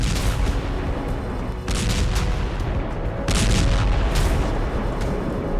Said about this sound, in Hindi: यह रूस का फास्फोरस बम है जो बेहद घातक है।